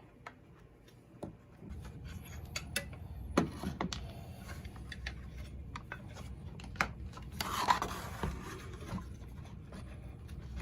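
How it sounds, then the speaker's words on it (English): A metal nut threaded onto a screw by hand gives small scattered scrapes, clicks and ticks at close range. The clatter is quiet and irregular, with a few sharper taps. "Doing a quick test fit of the nut onto the screw."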